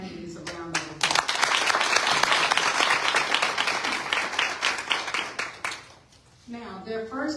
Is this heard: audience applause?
yes